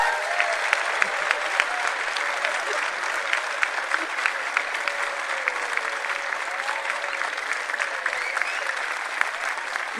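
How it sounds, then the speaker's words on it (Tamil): A large audience and choir at a Carnatic music festival in Dubai give a big round of steady, dense applause, even and sustained with a faint murmur of voices underneath. "எல்லாருக்கும் சேர்த்து ஒரு பெரிய கைத்தட்டு."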